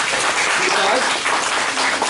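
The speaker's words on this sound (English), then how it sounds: "Let's give her a big round of applause." A classroom of students claps for a classmate in a loud, dense wash of applause mixed with voices talking over it.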